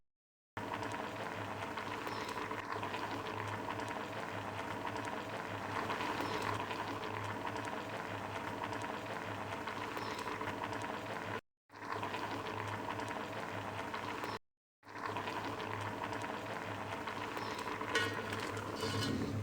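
Sweet potato kheer with milk and sugar boiling over a raised flame, a continuous dense bubbling simmer that runs steadily with two brief gaps.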